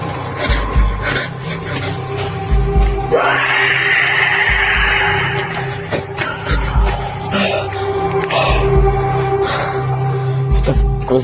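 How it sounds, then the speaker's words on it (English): A sudden, terrifying scream tears through a dark tunnel, a sustained harsh shriek lasting about three seconds, loud against a rumbling, echoing background with scattered thumps and clatter. "A sudden, terrifying scream ripped through the tunnel."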